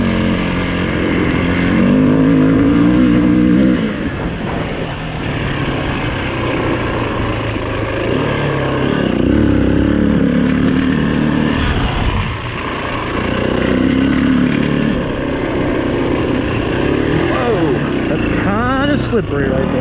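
A 2008 Yamaha WR450F dirt bike ridden along a trail, its engine droning loud and steady with rising and falling revs throughout, close to the rider, with a voice talking over it.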